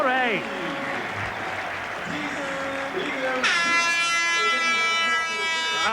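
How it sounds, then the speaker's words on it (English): A loud, sustained half-time siren blares at a 1996 Paris versus Sheffield rugby match over crowd noise and cheering partway through, with a commentator's voice heard before it. "And there's the half-time siren."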